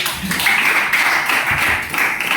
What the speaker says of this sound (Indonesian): Kita beri tepuk tangan dulu untuk dia